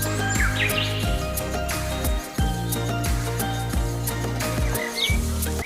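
Birds chirp and tweet along a riverbank on a nature walk, short calls scattered through a steady wash of outdoor sound and what seems to be music-like tonal layers, fairly close and continuous.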